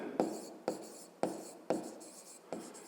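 Pen strokes on paper while working a fifth-grade maths equation exercise: five short scratchy writing bursts in a steady rhythm, close and fairly quiet, with no voice.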